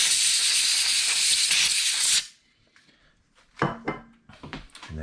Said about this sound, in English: Grab a little compressed air and blow that out.